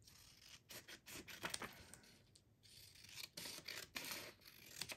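Scissors snip through paper while envelope window pocket pages are made, producing a quick series of close, crisp cuts with small gaps between them, clear and alone.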